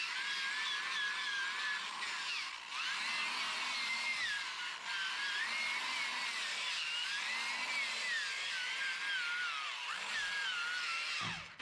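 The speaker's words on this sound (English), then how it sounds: "I came back with the drill again and just popped through all these holes." A power drill whines as it pops through the holes in a Toyota Corolla's wheel, its pitch rising and dipping in repeated bursts, fairly faint and with no talking.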